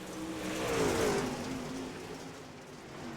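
UMP modified race cars circle a dirt track, engines roaring in a continuous, loud, mid-pitched drone that swells as a car passes close and then eases off.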